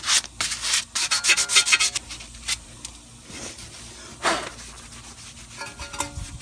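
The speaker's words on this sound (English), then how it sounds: "Got some 220 grit sandpaper right here. Basically just gonna scuff it up" A brake assembly is scuffed by hand with 220 grit sandpaper in quick, loud, close rasping strokes, busy at first and then thinning to a few scattered rubs.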